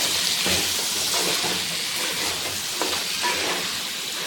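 Steady sizzling in a pot of spiced chickpeas with scraping, stirring strokes throughout, no talking.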